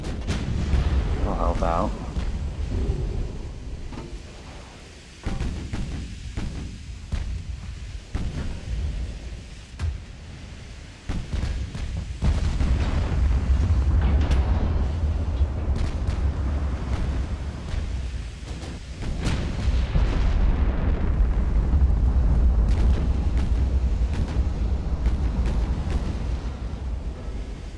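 Deep booming naval gunfire and explosions in Ultimate Admiral: Dreadnoughts, heavy rumbling blasts rolling one after another at close range, with someone talking over the battle noise.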